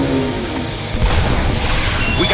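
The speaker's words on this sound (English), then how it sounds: "We got rockets incoming." A loud, dense rumbling boom of a rocket explosion in a Star Wars parody battle, filling the whole short moment with heavy low crashing noise and no talk.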